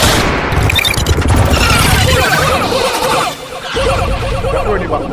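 Bursts of gunfire sound effects crackle over a dense, loud music track, with rapid shots and crashes running almost continuously.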